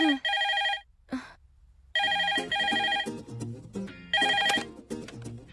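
A telephone rings loudly and close in a comedy film scene. Bursts of bright electronic ringing repeat with short pauses between them, and other busy sounds mix in during the later rings. No one speaks.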